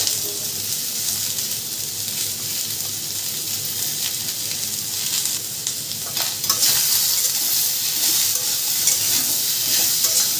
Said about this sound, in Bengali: এটা এভাবে একটু নেড়ে নিলাম।